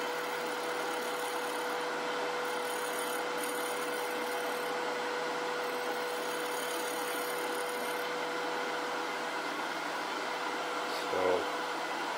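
A shear scraper works a birch bowl spinning on a wood lathe, giving a continuous rubbing hiss over a steady motor hum with faint rhythmic bumps and a brief knock near the end, and no talking.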